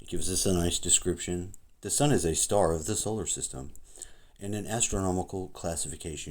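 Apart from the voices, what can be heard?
No everyday noises stand out.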